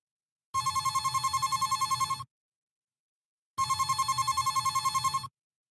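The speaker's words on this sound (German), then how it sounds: "Da klingelt das Telefon." A telephone rings in two long, trilling bursts separated by a short pause, clear and close with no other sound.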